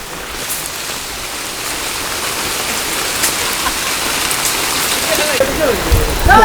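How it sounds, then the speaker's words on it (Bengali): Steady rain pours down on a village home during an outdoor cooking gathering, a dense continuous hiss of drops on surfaces that grows slightly louder toward the end, with a few voices faintly underneath. "বৃষ্টি নেমে গেছে"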